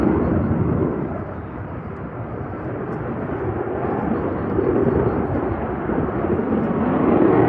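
A large high-altitude military jet flying at the Farnborough Airshow, a loud continuous roar with no breaks, rising and falling slightly as it passes.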